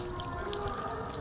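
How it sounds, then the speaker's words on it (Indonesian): Hands being washed under a running tap before entering a yogurt-making lab, a steady splashing stream with light dripping and gurgling, close and continuous with no talking. "Bilas dengan air mengalir."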